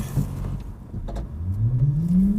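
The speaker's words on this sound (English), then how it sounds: "I'm literally pressing the gas all the way down to the floor" A Sondors electric vehicle prototype pulls away at full throttle, its motor whine rising steadily in pitch over a low road rumble, close and fairly loud with no talk.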